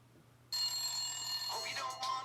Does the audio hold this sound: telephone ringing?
yes